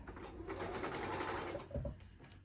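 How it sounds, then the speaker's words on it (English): A sewing machine stitching fabric for a Jacob's Ladder quilt block runs as a close, steady, rapid mechanical whir, with a brief clunk and slowdown near the end. "I'm going to feed it under my presser foot like this"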